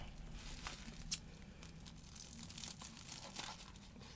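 Bubble wrap being trimmed and crinkled by hand, faint close crackles and rustles with a few sharper snaps scattered through a quiet stretch, no voices.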